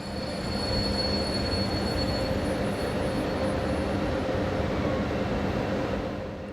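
An ES 64U2018 locomotive with a passenger service from Halle sits at a station, giving off a steady loud mechanical hum and rumble with a faint high whine and no talking.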